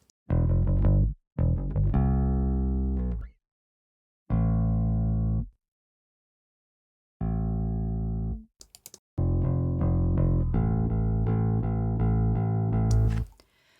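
Clean, dry bass guitar notes play in short phrases separated by silences, each note sustaining and fading with a plain, unprocessed tone.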